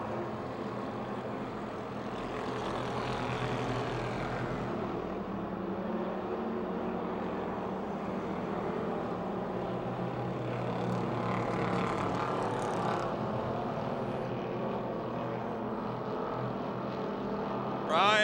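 Race cars at Pittsburgh's Pennsylvania Motor Speedway roar around the dirt oval on the final lap, a steady, dense engine drone throughout with the crowd's noise mixed in and a public-address voice over it.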